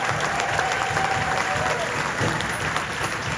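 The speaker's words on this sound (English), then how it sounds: "how about a nice round of applause for Julian Pollock at the piano" Applause from a jazz club audience greets the pianist, a continuous patter of clapping heard at moderate distance under faint background sounds and a stray tone.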